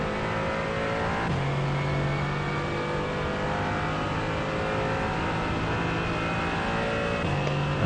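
A Mercedes AMG GT4 race car at Portland International accelerates on throttle, a steady loud engine drone with shifting pitch and a gear change or two, heard alone without talk.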